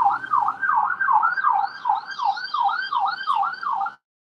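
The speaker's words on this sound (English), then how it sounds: "Sorry, we just got a siren as I came up." A wailing emergency vehicle siren on a Chicago street cycles rapidly up and down in a steady, repeating yelp, loud and fairly close, continuing for several seconds before cutting off.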